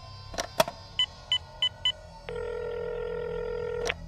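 A telephone being dialed in a dramatized Bengali detective audio story. A few sharp clicks, then four evenly spaced touch-tone beeps, then a long steady ringback tone. Close and clear, no voices.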